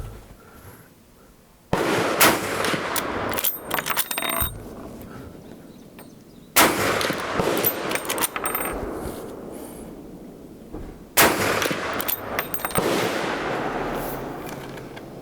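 A Henry lever-action .45-70 rifle with a brass receiver and octagonal barrel fires Hornady LEVERevolution 325-grain FTX rounds outdoors: three sharp, loud reports spaced several seconds apart, each followed by a long, echoing decay.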